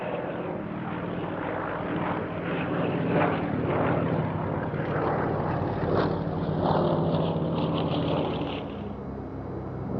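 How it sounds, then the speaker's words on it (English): Polikarpov I-152 DIT two-seat biplane trainer at a Russian Air Force centenary airshow, its propeller engine droning steadily and fairly loud throughout, swelling slightly as it passes and easing off near the end. "This is the Polikarpov I-152 DIT two-seat trainer."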